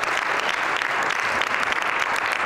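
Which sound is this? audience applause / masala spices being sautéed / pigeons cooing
audience applause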